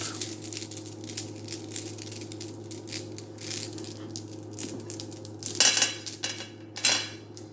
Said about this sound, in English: let's put them back in the bag. This will be your reading. Mix them up.